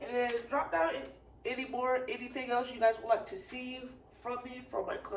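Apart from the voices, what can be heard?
No everyday noise stands out behind the speech.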